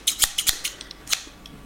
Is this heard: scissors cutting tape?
yes